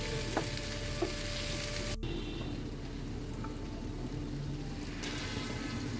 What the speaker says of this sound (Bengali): এবার পরিষ্কার করা কাঁকড়াগুলো মশলার সঙ্গে দিয়ে দিলাম, মশলার আলুর সঙ্গে দিয়ে একসঙ্গে কষে নিলাম।